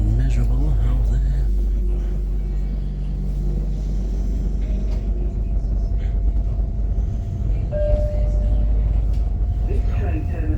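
A London train in wet winter weather rumbles on with a steady low drone and a few faint squeals, while a voice talks over the ride.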